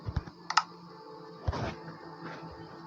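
Several quick key clicks from a computer keyboard while a name is typed into a game, with short bursts and pauses between them, close and moderately loud with no talking.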